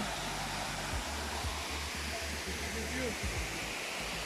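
Steady, full roar of a waterfall cascading down stepped rock at a Sinop nature site, continuous and close with no breaks, a voice briefly heard beneath it.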